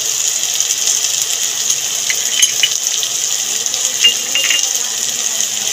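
A spice paste of ground cumin and coriander with turmeric and chilli powder sautés in oil, a steady loud sizzle with faint crackles and no talk, while cooking for doi echor.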